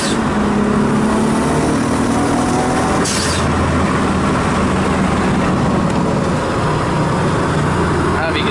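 Nissan 240sx with a swapped 1JZ engine driving hard and shifting into third gear, a loud steady engine roar with rising tonal lines and a break at the shift, close and continuous throughout.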